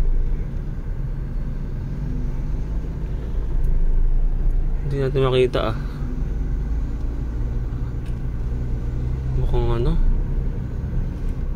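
Steady low rumble of car traffic on Katipunan Avenue, slowed near a major multi-car accident, with people talking over it throughout.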